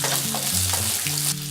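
Chopped garlic and carrots stir-fry in hot oil with a dense, continuous sizzle and quick stirring scrapes, with a low tonal hum underneath.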